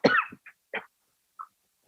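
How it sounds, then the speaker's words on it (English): A close, quiet cough followed by a few small throat sounds and breaths, spaced out with silence between. "Sorry, I'm coughing."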